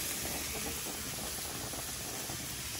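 Food sautés in a hot pan for a crispy onion cod dish with tomato sauce, giving a faint, continuous sizzling hiss with no pauses.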